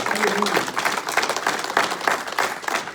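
A church congregation claps and applauds together in a dense, continuous wash of hand claps that stays loud throughout, with no speech over it.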